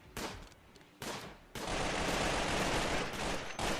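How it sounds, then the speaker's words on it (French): Machine-gun fire in the video game RimWorld comes in short rattling bursts with brief gaps, then settles into a long, loud, continuous stretch of rapid gunfire. "j'adore quand il tire à la mitrailleuse"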